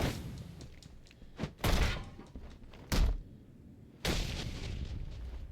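Heavy doors slamming in Batman: Arkham Origins, a video game: three loud, booming thuds spaced about a second apart over a low rumbling game background, with no talking.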